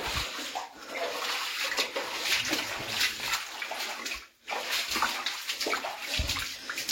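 Water rushes and splashes steadily through a knee-deep flooded cave, a loud continuous wash with a brief dip partway through, no talking.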